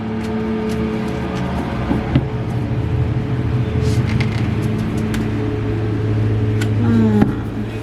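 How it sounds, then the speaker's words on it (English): A low engine rumble drones steadily nearby, with a faint tonal hum rising slightly toward the end, like a tractor passing close by. "Tractor."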